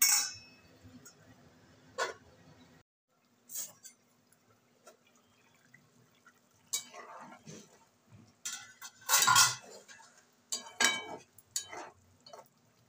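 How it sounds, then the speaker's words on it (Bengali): A lid goes onto a cooking pan of rui fish and eggplant curry. Sharp metallic clinks and knocks come in scattered bursts over a quiet background, with a loud cluster of clanks near the middle. "আবারও ঢাকনা দিয়ে ঢেকে দিচ্ছি"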